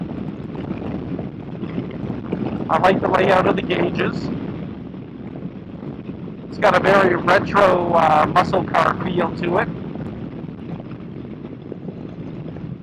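Steady low wind rumble buffets the microphone on a moving 2018 Kawasaki Vaquero motorcycle throughout while someone talks over it in two stretches.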